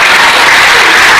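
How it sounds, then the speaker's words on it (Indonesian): An indoor audience at a church sermon claps in a dense, loud burst of applause, steady and unbroken for about a second. "Nggak usah tepuk tangan"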